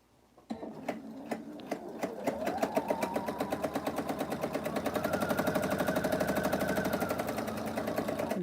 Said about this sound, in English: now I'm going to sew this seam